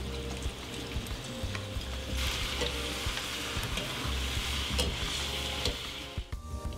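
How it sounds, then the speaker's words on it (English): Fries frying in a pan of hot oil for lomo saltado, a steady, close, dense sizzle that swells louder partway through and carries faint clinks of stirring, with no voices. "so we're gonna cook these fries"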